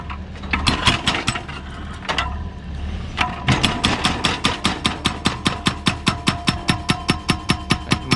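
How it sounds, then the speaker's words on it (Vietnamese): A Doosan excavator's hydraulic hammer breaks concrete on a riverbank embankment: a few irregular heavy blows, then a fast, steady run of loud, sharp rhythmic pounding impacts over an engine rumble. "Máy xúc vác cái búa nhỏ thôi nhưng mà đục rất là uy lực, búa rất là khỏe."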